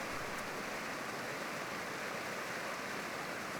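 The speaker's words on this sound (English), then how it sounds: "there's a large waterfall over here of what looks like orange Fanta" A large waterfall of orange soda pouring down from a castle in PowerWash Simulator 2, a steady even rushing roar of falling liquid, moderately loud and unbroken throughout.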